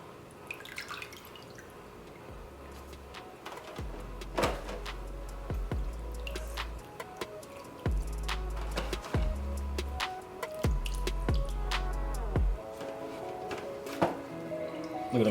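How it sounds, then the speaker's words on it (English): Juices from smoked turkey legs dripping off a cooking rack into a pan, a scattered series of soft close drips and taps with low thuds in between, no voices. "Just this way I can drain some of that juice off and just let them sit for about 5 minutes."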